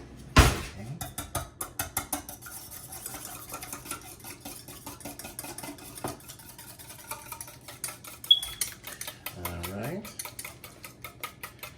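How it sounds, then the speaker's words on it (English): Two eggs beaten with a utensil in a bowl while cooking a Sunday dinner: a long run of quick, evenly spaced clicking strokes up close, with a louder clatter at the start and a brief voice near the end. "So we're gonna add 2 eggs. I like to beat them up first before I add them."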